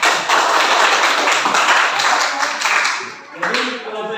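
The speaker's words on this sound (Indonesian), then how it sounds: "Tepuk tangan." Students clap together in a school classroom, a dense, steady burst of hand claps lasting several seconds before thinning out, with a voice starting to speak near the end.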